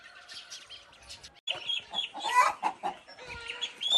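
A hen out walking with her ducklings clucks repeatedly at close range, the calls mixing with high, thin peeping in an uneven, busy rhythm.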